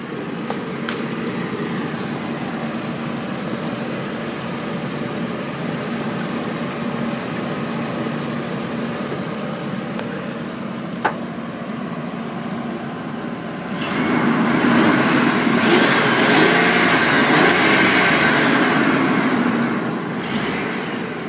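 A 1996 GMC Jimmy with a Vortec 4.3-liter engine, aftermarket front end and lowered suspension idles with a steady, even hum that grows noticeably louder partway through.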